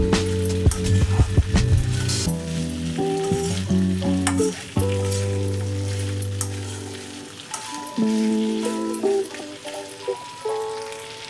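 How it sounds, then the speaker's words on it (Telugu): Potato fry for an aloo fry curry sizzling in a pan on low to medium flame, with a loud steady crackle close up and repeated scraping and clinking as a spoon stirs it, no voices. "మధ్య మధ్యలో కలుపుకుంటూ ఉండండి"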